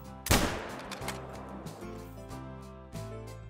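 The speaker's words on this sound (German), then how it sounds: "Komm, wir machen jetzt einen 300-Meter-Schuss" A single loud rifle shot fired at a deer in the hunting game theHunter: Call of the Wild, a sharp close crack followed by a fading echoing rumble and a soft later thump.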